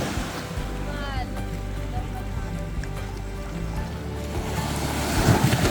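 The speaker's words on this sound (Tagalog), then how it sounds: "Baka abot dito agad dito yung tubig, Crystal" Sea waves wash steadily onto a beach shore, a continuous near roar of surf with wind noise that swells louder toward the end.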